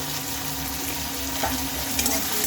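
Green chilies and whole garlic cloves frying in a pan while they are stirred: a steady, even hiss of hot oil with faint, soft knocks from the stirring and no voices.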